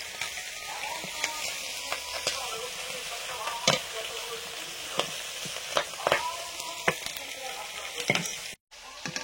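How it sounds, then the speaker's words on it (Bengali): Bombay duck (lote fish) sizzles steadily in hot oil, with occasional sharp clicks and scrapes of a utensil and a brief dropout near the end. "পরপর যা ভাজা হচ্ছে তুলে নিচ্ছি।"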